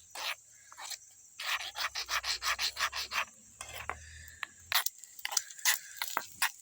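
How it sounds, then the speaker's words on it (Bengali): A utensil stirs egg into scrambled egg bhujia in a small pan, a quick series of rhythmic scraping strokes followed by scattered clinks and scrapes, close and fairly quiet. "ডিমটাকে নেড়ে আমি ভুজিয়া বানিয়ে নেব।"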